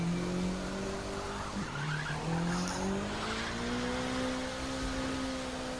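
Car racing in The Crew 2 with a loud, continuous engine drone rising and falling in pitch as gears shift, overlaid by tire squeal and skidding, no talking.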